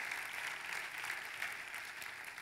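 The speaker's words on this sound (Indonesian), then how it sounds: "Tepuk tangannya pula yang lebih meriah buat Tuhan kita" A church congregation applauds in praise of God during a sermon, a quiet, continuous wash of many hands clapping heard from a distance and holding steady throughout.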